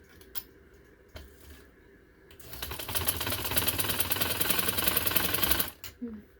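A sewing machine stitches piping onto a cotton suit. A few isolated clicks come first, then a loud, rapid, steady clattering run of stitching lasts about three seconds before stopping abruptly.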